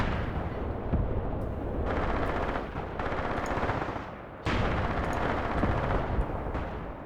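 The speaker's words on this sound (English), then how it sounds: "I believe this sounds very much like an enemy machine gun over here." Enemy machine gun fire in the war game Graviteam Tactics, dense continuous rattling bursts with heavy booming battle noise, loud throughout with brief dips between bursts.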